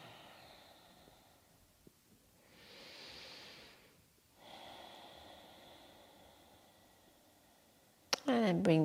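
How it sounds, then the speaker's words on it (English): Slow, deep breaths from a person seated cross-legged during a yoga session, two long soft inhale-exhale swells close to the microphone in a quiet room, followed by a brief burst of speech at the end. "Taking a few deep breaths here."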